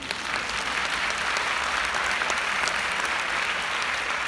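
A large congress audience applauds in a continuous, dense wash of clapping that holds steady and loud throughout.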